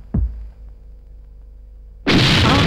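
A comedy kitchen-blast sound effect: a dull low thump, then a quiet rumbling pause before a sudden loud, roaring explosion bursts in and keeps raging to the end.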